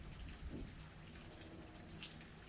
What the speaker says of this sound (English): I was talking about rain yesterday as well, and how I was wishing for rain. So now I got it.